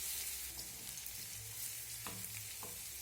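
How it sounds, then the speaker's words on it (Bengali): Ginger, garlic and green chili stir-frying in oil over lowered gas flame, a dense hissing sizzle throughout with a few faint spatula scrapes. "এখন এই আদা আর রসুনের কাঁচা গন্ধ চলে যাওয়া পর্যন্ত নাড়াচাড়া করে ভেজে নেব"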